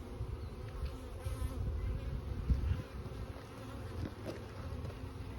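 A package of honey bees with a marked drone hums in a steady, faint, close buzz with small rises and falls.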